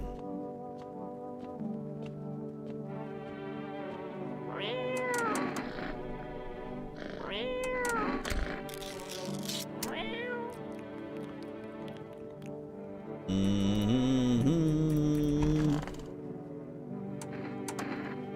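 A cat meows in a video game several times, each call rising and falling, over a quiet electronic music bed. A louder, brighter tonal burst follows near the end.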